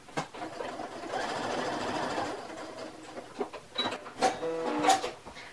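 A sewing machine stitching a one-inch shirt hem runs in a steady whirring burst, then stops and restarts in short runs with clicks and handling noises, fairly close and moderately quiet.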